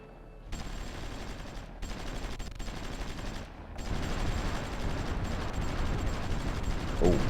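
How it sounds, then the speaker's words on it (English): Dull, rumbling artillery bombardment from the strategy game Supreme Ruler Ultimate, a continuous low barrage of thuds and crackles that swells louder midway and keeps rolling to the end. "Oh god, that bombardment is brutal."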